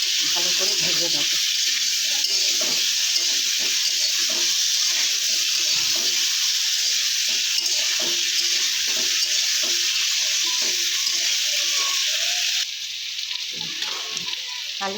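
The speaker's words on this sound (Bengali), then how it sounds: "নুন দিয়ে দিলাম, দিয়ে ভালো করে ভেজে নেব।" Potatoes frying with salt in a pan make a loud, steady, close sizzle throughout, easing slightly near the end.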